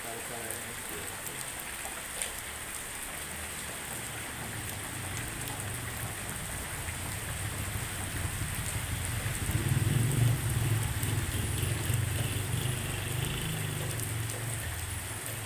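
Light drizzle falls in a village, a soft steady hiss of raindrops on surfaces, with a low rumbling vehicle passing nearby partway through.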